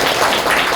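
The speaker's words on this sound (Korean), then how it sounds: "우리 수행자님에게 따뜻한 박수 한번 부탁드립니다" Brief burst of warm audience applause at a Buddhist dharma talk in Gyeongju, many hands clapping loudly and densely, close and continuous with no gaps.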